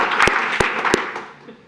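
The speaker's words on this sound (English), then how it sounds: "You can clap for that." Brief applause from a small audience welcoming new commissioners at the Royal Oak city commission meeting, a few sharp close claps standing out over a dense patter that fades within two seconds.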